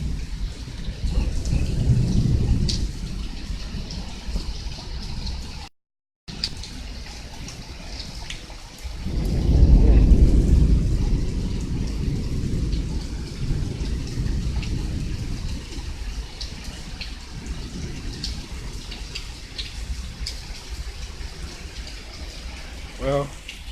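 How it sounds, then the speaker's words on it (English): Heavy rain pours steadily on a porch during a storm from Gulf moisture, with low rumbles of thunder swelling and fading, one near the start and a louder roll midway, while a voice talks intermittently. "All it is today is heavy rain."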